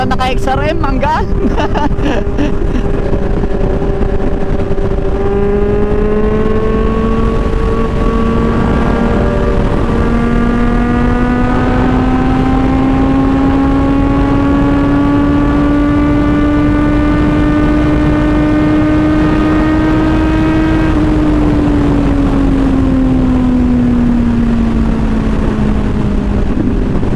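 A Kawasaki Z1000R motorcycle is ridden on the road. Its engine note climbs and falls in long smooth sweeps as the rider works through the gears, loud and close, with constant wind rush behind it.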